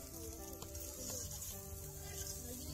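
Poha being stirred and mixed with masala in a hot pan, a steady close sizzle of frying with soft scraping underneath, continuous and even throughout.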